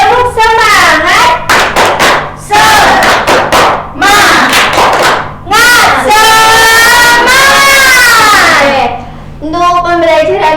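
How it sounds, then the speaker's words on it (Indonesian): A primary school class chants a tepuk semangat cheer in loud unison, children's voices rising and falling in rhythmic bursts with clapping mixed in, filling the classroom. "kita tepuk semangat terlebih dahulu ya"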